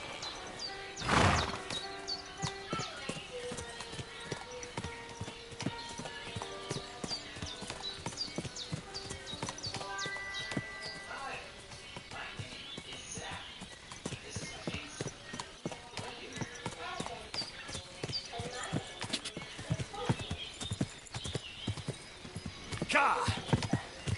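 Horse hooves clip-clop steadily in Kingdom Come Deliverance 2 as a horse is called over and ridden, with a whinny near the start and someone talking over much of it, amid layered game ambience and music.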